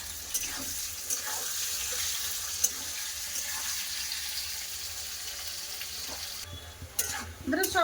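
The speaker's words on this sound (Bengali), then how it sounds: "এইভাবেই ভেজে নেব সব" Potato chips frying in hot oil give a steady, fairly quiet sizzling hiss throughout, with a few brief clinks and stirring sounds, the last second a bit busier.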